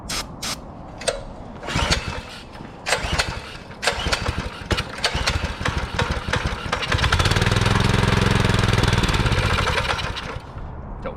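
A homemade go-kart built from a Yeti ice chest, its small engine cranking with sharp sputtering bursts before catching and running loudly and steadily for several seconds, then winding down.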